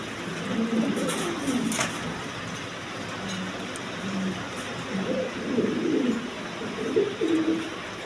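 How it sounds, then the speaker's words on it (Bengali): Pigeons, including Spanish potter and other fancy breeds, coo repeatedly in low throaty rolls close by, with bright clicks and rustles overhead and steady background noise. "একদম হাই কোয়ালিটি কবুতরগুলো"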